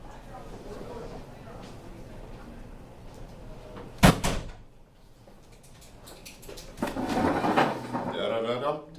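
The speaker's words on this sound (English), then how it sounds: "Can someone close that door, please?" A door swings shut with a sharp, loud thud in a classroom during a lesson on diode cleanup, standing out from a background of speech and room murmur, followed by more talking.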